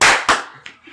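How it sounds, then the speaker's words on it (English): Hand claps mark the start of a podcast recording: two sharp, loud claps in quick succession, then a softer, scattered clap trailing off in a quiet room. "Alright, clap sync, everybody."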